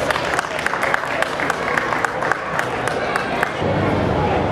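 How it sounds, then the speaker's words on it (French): Audience applause at a Côte d'Ivoire economic and cultural festival, a crowd clapping steadily with scattered sharper claps and background murmur, swelling slightly toward the end. "Est-ce qu'on peut applaudir, s'il vous plaît?"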